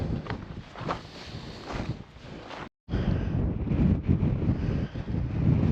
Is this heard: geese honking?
no